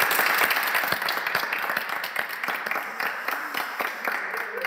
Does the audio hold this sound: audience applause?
yes